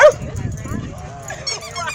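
Dogs at a busy dog park bark and yip in short bursts, fairly close, with people talking over and between the barks.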